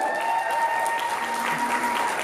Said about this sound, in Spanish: El aplauso para todos ellos, por favor.